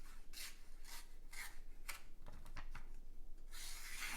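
A hollow-ground TwoSun TS310 fixed blade knife slices through material in a run of short, rasping swipes, about eight quick strokes in irregular rhythm, close and crisp, ending in a longer hissing cut.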